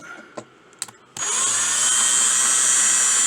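A power drill drilling out parts bursts on after a few light taps and then whines loud, steady and high-pitched right up close.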